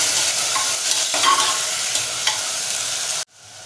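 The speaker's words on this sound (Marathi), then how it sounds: "आणि थोडंसं मीठ घालूया आणि छान मिक्स करून घेऊया" Sprouted chickpeas with potato pieces and salt get stirred in a hot pan, a loud continuous sizzle with scraping spoon strokes that cuts off abruptly near the end, close up and without voices.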